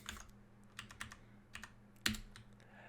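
Fast typing on a computer keyboard during a hacking session, quiet clusters of key clicks with a sharper, louder keystroke near the end, close and alone over a faint steady hum.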